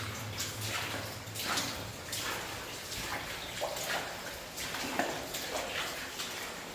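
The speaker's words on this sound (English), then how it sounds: "you can hear the source of this water that is coming out of the mine" Water flows out of an abandoned 1900 gold mine as a soft, steady rush with faint drips, heard from inside the tunnel and fairly quiet throughout.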